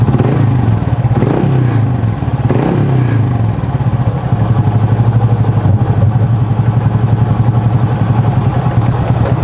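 A Honda Supra motorcycle engine revs up close, rising quickly and settling into a steady, loud running tone, with some clatter in the opening seconds.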